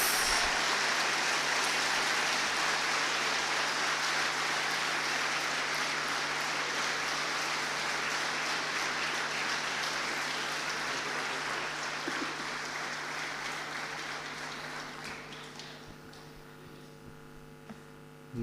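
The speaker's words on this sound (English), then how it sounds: "Join me in welcoming Dr. Jaishankar with a very big round of applause." Sustained applause from a lecture-hall audience welcoming India's External Affairs Minister to a leadership lecture, a dense clatter of clapping that gradually thins and fades out over about eighteen seconds.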